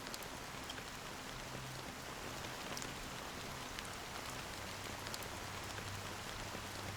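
Steady rain from the video game Honkai Star Rail patters evenly on surfaces, a soft continuous hiss with scattered distinct droplets and no voices.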